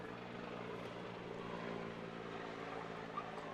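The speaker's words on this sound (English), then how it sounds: "Have a little bit of a helicopter saying hello to us right now. It's flying by." A helicopter passes overhead near a high-school baseball game, a steady droning rotor and engine rumble holding at an even, moderate level throughout with no talk over it.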